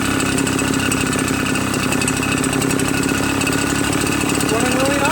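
A Redmax EBZ8050 gas backpack leaf blower engine runs steadily and loudly throughout, a continuous even drone with a faint rising whine near the end.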